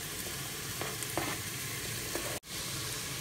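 Onion and carrots fry with minced meat for chili con carne, a soft, steady sizzle under a few light stirring taps, with a brief dropout partway through.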